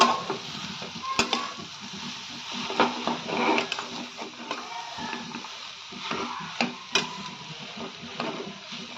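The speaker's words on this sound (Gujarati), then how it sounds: "હવે આપણે બધું સરખી રીતે મિક્સ કરી લઈશું." Chopped onion, cabbage and capsicum with spices are stirred in a hot pan for a Frankie filling, giving a continuous sizzle broken by repeated scraping and tapping of the spoon against the pan.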